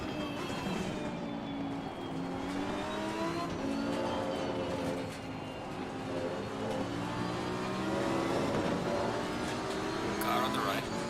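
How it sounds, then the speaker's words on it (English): Race car engine in Assetto Corsa Competizione at the Imola circuit, a steady loud roar with rising and falling revs through gear changes across the lap, with a voice talking over it throughout. "Love the sound of this car though."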